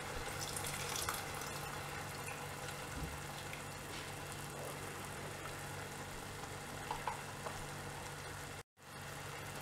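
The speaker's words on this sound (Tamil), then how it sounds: "இந்த மிளகாத்தூள்லாம் நல்லா கொதிச்சிட்டு இருக்கும்போது புளி தண்ணி ஊற்றிடலாம்" Tamarind water poured into boiling chili curry for a field bean kara kuzhambu, giving a steady, continuous close-up rush of liquid with a brief dropout near the end and no talking.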